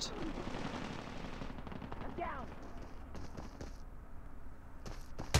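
Gunfire rattles in the Call of Duty Mobile multiplayer game as rapid automatic bursts over a dense, noisy game soundscape, with a few sharp interface beeps near the end.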